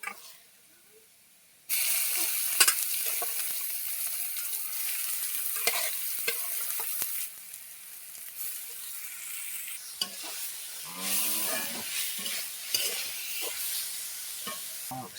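Onion frying in a pan for a mooli shak (radish greens) dish, a steady loud sizzle after a quiet start, with intermittent stirring scrapes and small crackles.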